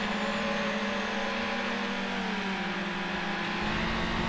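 A car engine in the racing game Need for Speed Hot Pursuit 2 hums and revs at steady pitch, a sustained, moderately loud drone with a slight rise and shift in tone, heard on its own.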